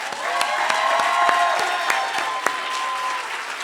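A graduation audience on a college campus applauds for a singer and music. Dense, steady clapping fills the whole stretch at close range, with some scattered cheers mixed in.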